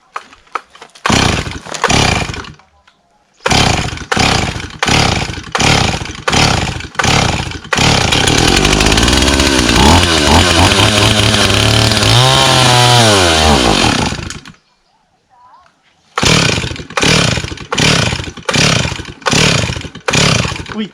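A Stihl 028 chainsaw, primed with fuel poured straight into the carburetor, coughs through a run of rapid pull-start attempts, then catches and roars loudly for about seven seconds, revving up and down before dying, followed by more pulls.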